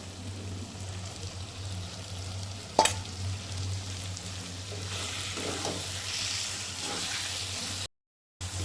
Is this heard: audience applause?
no